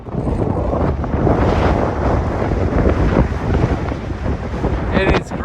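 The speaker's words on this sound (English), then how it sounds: "It is crazy windy" Strong, steady wind roars and buffets the microphone on an open road leaving Atlantic City, Wyoming, a constant loud rush with no break.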